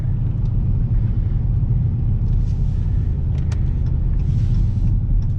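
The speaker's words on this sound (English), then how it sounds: "You hear that downshift?" Dodge Charger R/T engine rumbling loud and steady while cruising on a turnpike, with a deep low drone throughout and a brief rise around a downshift.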